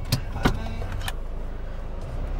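A car creeps slowly through a tight gap, a low steady rumble throughout with a few sharp knocks and clicks near the start, close by and without speech.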